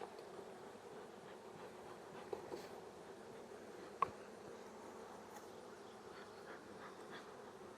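A soft, continuous hum of many honeybees buzzing nearby in a recently combined hive, with a sharp tap or click near the middle and no talking.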